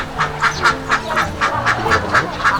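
Ducks on an enclosed duck farm quack in a steady run of loud, close calls, roughly every quarter second, with no one talking.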